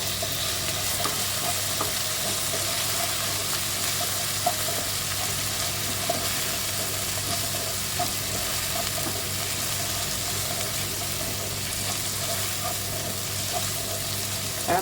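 Chopped tomatoes added to sizzling masala mag methi, a Gujarati dish of mung beans and soaked dried fenugreek, giving a steady, even frying hiss in the pan that continues alone without talk.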